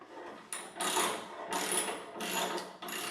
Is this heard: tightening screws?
yes